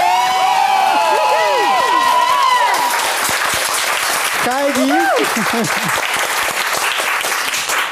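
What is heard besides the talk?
audience applause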